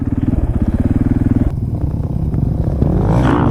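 A supermoto motorcycle spins its rear wheel while climbing wet grass, its engine pulsing in a fast, loud, close throb that steadies into a sustained rev and then rises sharply toward the end.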